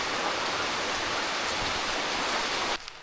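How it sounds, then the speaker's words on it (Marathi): Steady, continuous rain falling outdoors during the first rains of the season, a dense even hiss that cuts off abruptly near the end. "पाऊस तर पडतो आहे"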